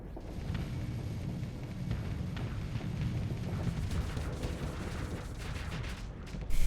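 Swarmer missiles hitting ship shields in the space combat game Starsector, a continuous dense crackle of small rapid impacts and muffled explosions forming a steady rumbling barrage, with a louder hit at the very end.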